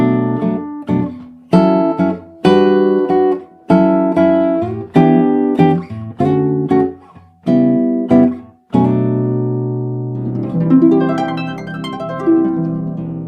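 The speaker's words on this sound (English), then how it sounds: "you get full chords. And that would sound like this" Full chords ring out in a steady sequence of plucked or struck attacks, each decaying before the next, ending in a denser, sustained flourish.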